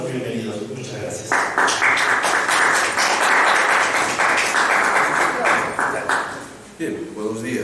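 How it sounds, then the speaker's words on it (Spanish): An audience in a hall at a talk on Machu Picchu bursts into steady, dense applause to welcome the speakers. The clapping rises sharply, holds for several seconds and fades, with a voice speaking at the start and the end. "Los recibimos con un fuerte voto de aplauso."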